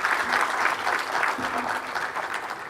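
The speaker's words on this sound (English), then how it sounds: "Makofi kwake tafadhali." Sustained applause from an audience at a Kenya School of Government centenary morning session, a steady crowd clapping that stays fairly loud throughout with a slight dip midway.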